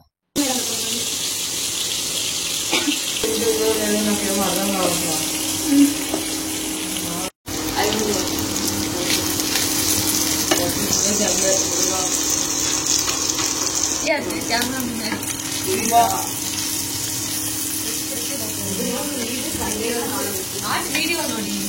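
Onions, chillies, tomatoes and curry leaves fry for a chicken curry in a home kitchen, giving a constant hissing sizzle, with voices talking over it and a few brief pauses in between.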